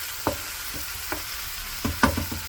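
Onions fry in butter with turmeric in a pan, giving a soft continuous sizzle broken by a few brief scraping stir sounds, close and quiet with no voices.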